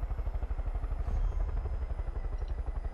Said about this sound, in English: This helicopter is really loud, you know?